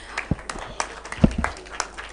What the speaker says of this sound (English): give them a better round of applause